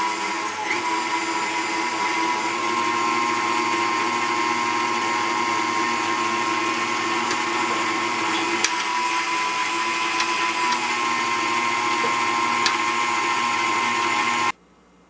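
An electric mixer beats sugar into six egg yolks for eggnog, giving a steady, close motor whine with a constant pitch that runs nearly the full length and cuts off abruptly at the end.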